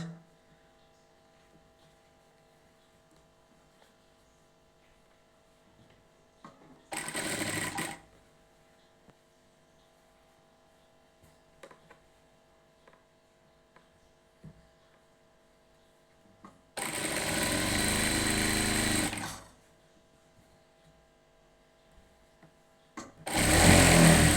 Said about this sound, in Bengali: আবার আরেকটা মাথা সেলাই করব, জাস্ট একটা ভাঁজ।